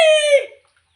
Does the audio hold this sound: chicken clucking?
yes